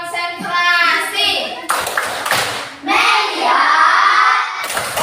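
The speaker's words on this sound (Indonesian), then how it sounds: "Tepuk konsentrasi." A class of children performs a concentration clapping routine, bursts of group clapping alternating with chanted voices, loud and close, with short pauses between rounds.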